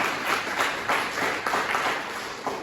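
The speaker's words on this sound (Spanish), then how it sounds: "¿Cuánto le damos un aplauso al Señor?" A church congregation claps for the Lord during a Sunday service, a sustained, fairly even round of many hands clapping together, moderately loud and continuous with no speech on top.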